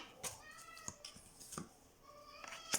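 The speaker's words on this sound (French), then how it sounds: "Désolée si vous entendez mon chat, là, je ne sais pas ce qu'il a." A house cat meows several times, faint and a little distant, with short repeated calls spread over a quiet indoor background.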